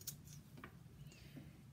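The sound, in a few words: scissors cutting fabric straps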